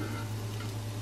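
Pork frying in grease in a pot, part of making Puerto Rican arroz con gandules with pigeon peas, gives a steady low sizzle with a constant hum, close and continuous, with no talking.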